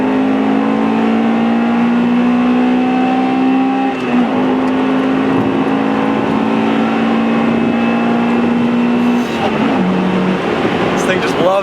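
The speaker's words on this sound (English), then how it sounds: "you can hear this race car motor sitting right in front of me" Acura Integra Type R race car engine idling close by, a loud steady harmonic drone with small pitch dips near four and ten seconds as the revs shift.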